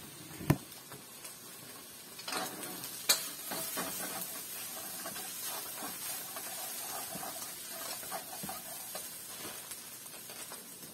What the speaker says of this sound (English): in goes the eggs